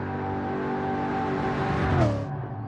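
A Pontiac Firebird Trans Am engine in Gran Turismo 7, driven on the Nordschleife, drones steadily under load, then its pitch drops sharply near the end as the revs fall away, loud and close with no talk.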